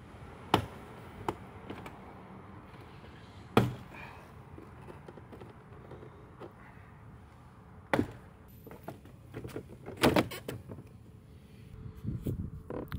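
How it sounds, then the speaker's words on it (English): Clicks and pops of a passenger door panel being pried off a VW GTI MK7, a few sharp snaps spaced out over steady low background noise, close and moderately loud. "Now here comes the tedious part, is removing the actual panel."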